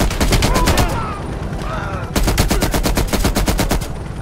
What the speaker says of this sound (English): Oh, oh, heavy MG, here we go.